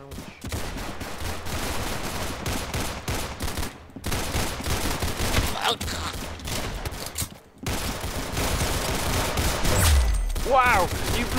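Pistol gunshots in the Roblox game Arsenal, rapid cracking shots repeating almost continuously with brief gaps. Game effects play alongside and a voice is faintly present.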